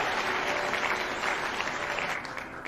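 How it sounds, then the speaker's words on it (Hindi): Steady, dense applause from a seminar audience for a business speaker, close and loud, holding even and easing slightly at the very end. "देखिए मिस्टर के अग्रवाल, एक जोरदार ताली।"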